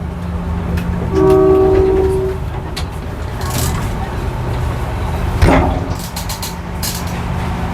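A Malaysian electric train's horn blows once, long and clear, over a rumbling train, followed by a brief second toot amid clanks and background noise.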